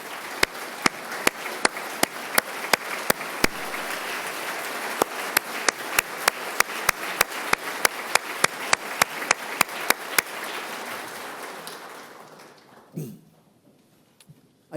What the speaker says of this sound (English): Kylie, please stand up so we can give you a round of applause